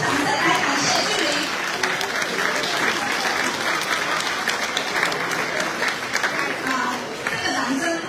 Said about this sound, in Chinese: 热情掌声来感谢俊麟